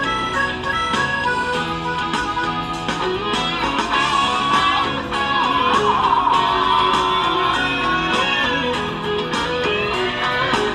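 Continuous music plays from the four compact speakers of a Lenovo Tab P11 Plus tablet at a steady, fairly loud level, with busy instrumentation throughout and no voices.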